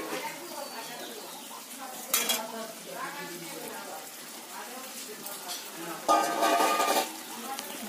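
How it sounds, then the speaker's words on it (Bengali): Fried potatoes go into a pan of chicken curry with a couple of louder clattering bursts of utensils against the pan over a soft sizzle and stirring, with a voice heard faintly underneath. "এবার দিয়ে দেবো ভেজে রাখা আলুগুলো।"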